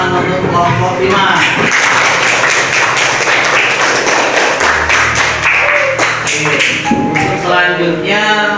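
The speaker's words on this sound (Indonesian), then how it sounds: "Nah, kasih tepuk tangan untuk kelompok 5." Primary school class clapping for a student group after its presentation, a lively run of hand claps with some taps and thuds, close and loud, with voices over the start and end.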